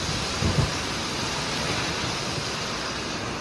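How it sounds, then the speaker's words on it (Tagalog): A dense, constant roar of heavy rain with gusting wind, loud and unbroken throughout, with a brief low thump early on. "sobrang lakas ng ulan dyan at hangin"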